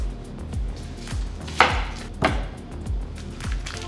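A knife chopping an onion into quarters on a cutting board, about seven steady thuds in an even rhythm, two of them sharper and louder, close up with no talking.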